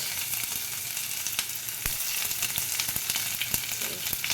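Onion frying in hot mustard oil with dried red chilies and mustard seeds as a tempering, a steady close sizzle broken by sharp pops and crackles, with no voices.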